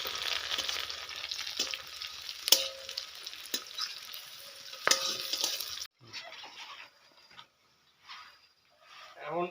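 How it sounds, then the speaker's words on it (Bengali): Five-spice seeds (panch phoron) sizzling in a pan of lightly fried onion and chilli, a steady close hiss with a few sharp clinks of a spatula, which cuts off partway to leave quieter stirring. "এখন পাঁচফোড়ন দিলাম।"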